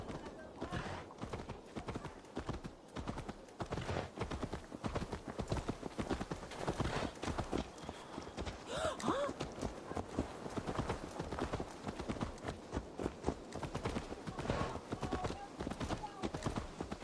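Horse hooves clip-clop at a steady, brisk rhythm in Assassin's Creed Valhalla, continuous and prominent, with a brief whinny around the middle and game voices talking over the hoofbeats.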